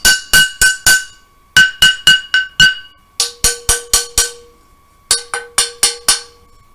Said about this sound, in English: I have a pot, and you can use a wooden spoon to hit it if you want